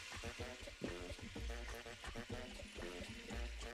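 Pork ribs sear in hot regular vegetable oil, giving a steady, close sizzle and crackle that runs through the whole clip. Brief low bumps suggest the pieces being set down in the pan.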